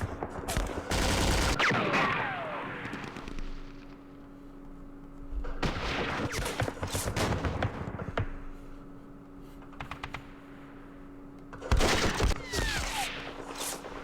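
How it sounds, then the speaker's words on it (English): Gunfire in the Vietnam war strategy game Campaign Series Vietnam, Dien Bien Phu battle: three loud bursts of volleyed shots and artillery-like blasts, separated by quieter gaps with a steady hum. "We're just gonna do some firing."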